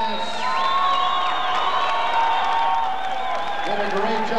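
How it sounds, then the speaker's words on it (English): A crowd at a fight night in Bozeman, Montana, in 2000 cheers, whoops and applauds for two fighters, a sustained wash of noise under an announcer's amplified voice. "Once again, a big round of applause for these two fighters."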